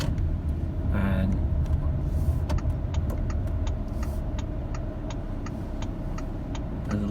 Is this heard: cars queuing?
yes